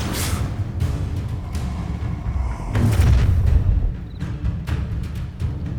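A fire spell cast in the Hogwarts Legacy video game, a sustained booming, rumbling burst that swells to a louder roar midway over a dense low-end wash, with scattered crackling pops toward the end.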